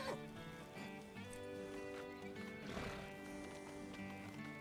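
A donkey brays in a ranch roleplay video game, a drawn-out, harmonically rich call rising and falling over a few seconds, moderately loud, with faint ambient sounds beneath.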